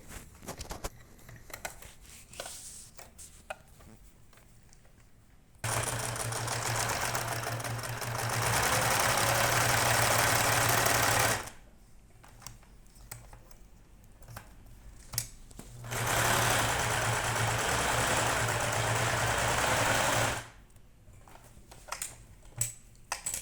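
A sewing machine stitches around a child's giraffe neck pillow in two long, loud, steady whirring runs, separated and framed by quieter stretches of fabric handling and small clicks.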